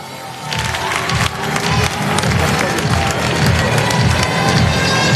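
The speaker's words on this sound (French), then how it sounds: "Mesdames et messieurs, ça s'applaudit." Crowd applause and cheering at the 2023 FECAFOOT Ballon d'Or football award ceremony in Cameroon, a loud, steady wash of clapping mixed with shouts that swells after the first half second and holds through the end.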